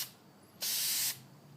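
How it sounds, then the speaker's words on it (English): A short burst of Krylon Sun Yellow spray paint hisses from an aerosol can for about half a second, close and steady, preceded by a faint nozzle click. "So I'll just go ahead and start spraying that on."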